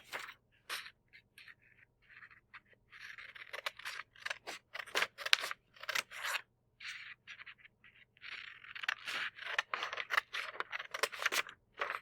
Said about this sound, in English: I'm going to take a scissors and I will cut on those